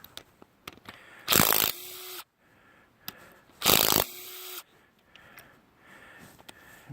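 A Harbor Freight Earthquake 3/8-inch drive impact wrench loosens head bolts in two loud, close bursts of about a second each, separated by a pause, with quiet clinks and handling noise between them.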